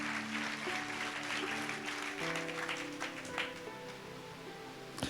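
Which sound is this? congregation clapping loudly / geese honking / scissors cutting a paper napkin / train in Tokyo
congregation clapping loudly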